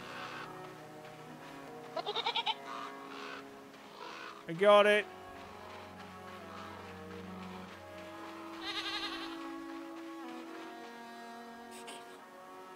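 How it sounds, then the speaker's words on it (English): Short bleats from a goat in the game REKA rise over quiet game music, with a person talking briefly between the calls. "Anybody want this goat?"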